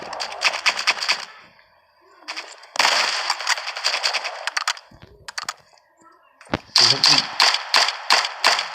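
Rapid bursts of pistol gunfire in the World War II shooter game Ghost of War, with several loud clusters of sharp shots separated by short quiet gaps.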